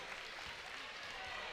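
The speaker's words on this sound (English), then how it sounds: "the Wildcat crowd getting into it just a little bit" A home Wildcat crowd cheering and applauding at a women's basketball Crossroads League championship game, a steady wash of crowd noise with voices mixed in.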